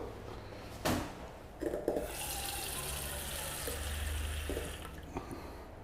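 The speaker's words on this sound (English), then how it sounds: "All that's left to do with this is to add a little bit of water." A couple of soft knocks, then water pours into a tagine in a steady splashing trickle for a few seconds before it stops, close by and quiet.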